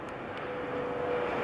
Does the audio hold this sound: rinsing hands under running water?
no